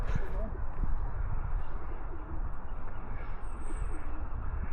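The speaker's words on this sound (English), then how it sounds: "It's not seagulls, it's bloody pigeons" Pigeons cooing near an old battlefield monument, soft low calls repeating under steady outdoor wind and ambient noise.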